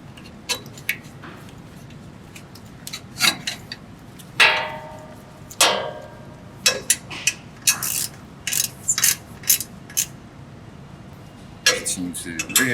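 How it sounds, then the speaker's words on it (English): Bolts are tightened on a BluePrint Automation collator during maintenance, giving close, irregular metallic clicks, ratcheting and clanks that arrive in scattered bursts against a quiet background. "Tighten the remaining 2 bolts."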